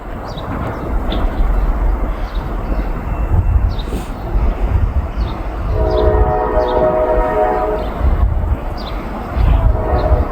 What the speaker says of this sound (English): That's Norfolk Southern 143 headed this way.